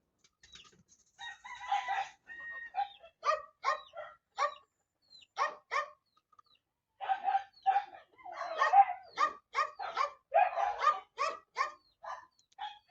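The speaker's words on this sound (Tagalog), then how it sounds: "medyo maingay yung aso" A dog barks repeatedly outdoors, moderately close, in irregular bursts of sharp yaps and grouped barks separated by short pauses.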